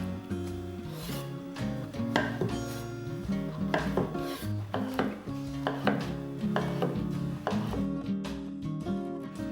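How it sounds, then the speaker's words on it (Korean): Rapid, even knife strokes cutting a king oyster mushroom into strips on a cutting board, one tap after another, close and fairly quiet with no talking. "새송이 버섯 한 개는 깨끗이 씻어 채 썰어주세요"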